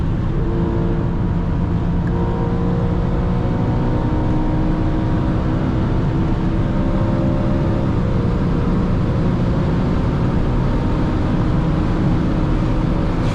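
A 2012 BMW M3 with the 4.0 V8 (420 hp) pulls hard under acceleration, a loud, steady engine roar with layered harmonic drone close to the mic and no talking throughout.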